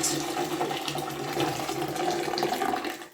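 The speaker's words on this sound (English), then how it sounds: "So we're putting this hot water directly into the water in the toilet." Hot water poured straight into the standing water of a toilet bowl in a bathroom, a steady continuous splashing and gurgling that runs unbroken for the whole stretch, close by and fairly loud.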